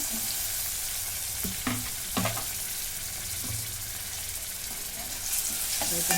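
Onion, ginger-garlic paste and tomato sautéing in a pan for Marathi-style masala rice, a steady close sizzle of frying with several sharp stirring scrapes of a spoon, and no talking.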